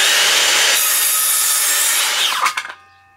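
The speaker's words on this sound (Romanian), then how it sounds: "Merge foarte ușor acest ferăstrău, tăietura este foarte curată așa cum ați văzut" Makita DHS680Z cordless circular saw cutting through wood, a loud, continuous high whine with the blade biting, then a sharp drop as the cut ends and the motor spins down.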